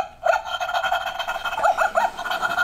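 A robot dog toy gives a string of short, electronic yips and barks, close and fairly loud, starting after a brief pause and repeating in quick bursts against a steady hum.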